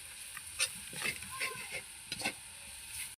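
Chili powder, turmeric and a pinch of salt sauté in a pan with a faint sizzle and scraping stirs, quiet and close.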